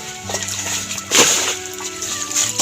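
Water splashing and sloshing onto a flooded rice seedbed, a steady pour with a louder splash surge midway, close and continuous with no talk.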